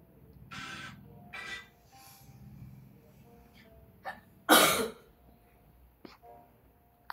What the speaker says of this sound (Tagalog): Ate ko umubo.